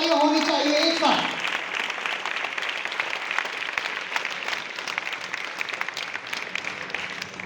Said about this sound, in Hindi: आपकी जोरदार तालियां होनी चाहिए एक साथ।